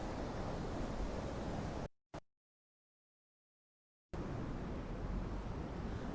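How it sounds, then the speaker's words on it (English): Fast-flowing water rushes beside a pedestrian walk as a steady, loud broadband wash that cuts out abruptly into about two seconds of silence before resuming at the same level. "check out how quick the water is nearby the pedestrian walk"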